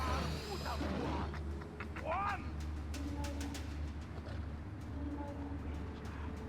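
Owl call in Far Cry Primal: a few warbling, cooing bird calls, including a rising swoop, heard over low ambient rumble and scattered clicks, with some voice in the background.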